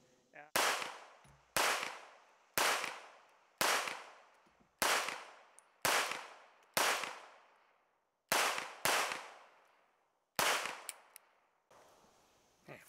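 HK P30L pistol with a built-in Streamlight compensator fired at an outdoor range: about ten loud, sharp reports in quick rhythmic succession, each followed by a short decaying echo.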